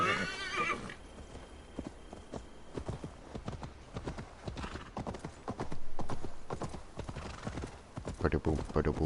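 Rapid hoofbeats of a galloping horse in Assassin's Creed Valhalla with a whinny at the start, mixed with a voice speaking and some game sound effects.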